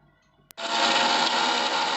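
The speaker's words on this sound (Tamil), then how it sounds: "அதில் இஞ்சி அரைச்சோன்னா அதிலே பூண்டையும் போட்டு நல்லா நைஸாக அரைச்சிக்கோங்க" Mixer grinder grinding ginger and garlic into a fine paste for a tomato thokku, starting abruptly after a short click and running loud and steady as a continuous high whirring motor drone.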